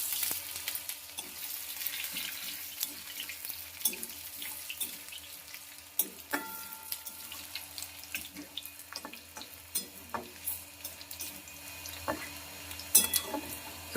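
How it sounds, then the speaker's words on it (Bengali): Crushed ginger fries in a pan while cooking khichuri with winter vegetables, a faint close crackle with scattered clicks and soft scrapes of stirring, no voices. "আদাটা এর মধ্যে দিয়ে দেবো, দিয়ে একটু ভাজা ভাজা করে নেব।"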